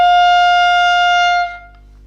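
A clarinet sounds a high G, played with the thumb opening the register key: one steady, clear sustained tone with strong harmonics, held for about a second and a half before it stops.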